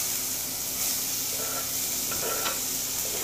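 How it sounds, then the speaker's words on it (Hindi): Chopped onion sizzles in butter and oil in a hot kadai, a continuous close frying hiss with faint stirring scrapes and small crackles, no talking. "कढ़ाई हमारा गरम हो गया है, अभी थोड़ा सा बटर ऐड करेंगे और इसमें थोड़ा सा ऑयल ऐड करेंगे उसमें। अभी ऐड करेंगे ये ओनियन"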